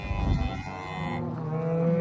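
Cows moo on a dry farm near bulls, one deep low call giving way to longer drawn-out lowing, moderately close, with no talk.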